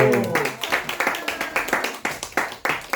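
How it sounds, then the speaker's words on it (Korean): A small group claps in a church English ministry class after a quiz answer, roughly a dozen fairly even, close hand claps in quick rhythm, with a voice briefly at the start. "박수!"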